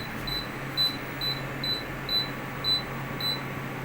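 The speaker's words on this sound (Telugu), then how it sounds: "బజర్ వచ్చిందా, ఇప్పుడు సరి అయిందా." An air conditioner's buzzer chirps during testing with eight short, high, evenly spaced beeps over a steady background hum, fairly close and clear.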